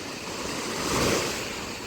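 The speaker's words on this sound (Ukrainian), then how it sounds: "А яке море сьогодні чудове, хвиля невелика." Small sea waves wash gently onto the shore at Antalya under clear weather, a steady soft surf hiss that swells slightly in the middle, with light wind and no voices.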